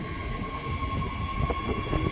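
Queensland Rail IMU 185 electric multiple unit departing Wulkuraka station on the Rosewood Line, a steady low rumble of motors and rolling wheels close by with a faint tonal whine, continuous throughout.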